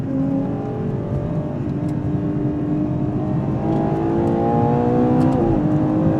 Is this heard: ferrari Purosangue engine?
yes